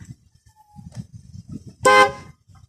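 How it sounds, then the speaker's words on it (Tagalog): A single loud car horn blast lasting about a quarter second, rich and buzzy, sounding close amid quiet low rumbling. "Sa horn naman, try natin."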